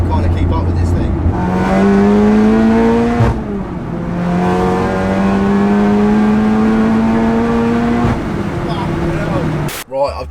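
A 700hp VW Golf R accelerates hard from inside the cabin, its engine note climbing through two long pulls separated by a gear change, loud and close, with a brief thump at the end and speech mixed in.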